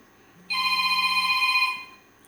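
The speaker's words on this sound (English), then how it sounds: "there's a bell ringing, but I'm not going to answer that right now" A telephone bell rings in one continuous bright burst of about a second and a quarter, clear and fairly loud, then stops, with no talking over it.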